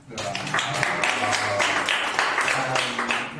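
Applause from an audience at an LSE Political Theory Society talk, a dense steady patter of many hands clapping close by, sustained for a few seconds with faint murmuring beneath.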